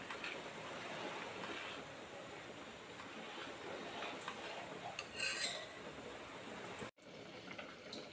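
Feni vermicelli is stirred in milk with sugar in a pot during village cooking, giving a steady, soft swishing and scraping that runs throughout with one brief break near the end.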